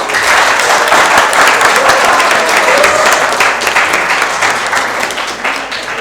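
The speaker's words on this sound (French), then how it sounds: "Merci d'applaudir encore les deux équipes." Audience applauding both teams at the end of a school quiz match, a dense, loud wash of clapping from a large crowd that stays steady and slowly tapers slightly toward the end.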